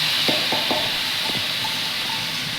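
Green peas stirred into spices sizzling in a pan for samosa filling: a steady frying hiss with several quick scraping stir strokes near the start, close and fairly loud, no voices.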